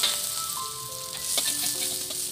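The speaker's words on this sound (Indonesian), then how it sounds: "Masukkan sedikit minyak goreng di atas wajan, lalu tumis bawang putih," Garlic sizzles steadily in hot oil in a wok, a close, continuous frying hiss with faint clinks from stirring.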